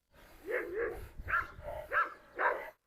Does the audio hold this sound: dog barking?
yes